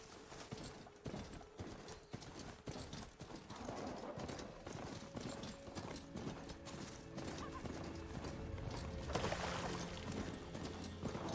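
Steady clip-clop of a horse's hooves as a mount is ridden in Horizon Forbidden West, the gait rhythm continuing throughout with a whinny and faint mechanical clicks over a game soundscape.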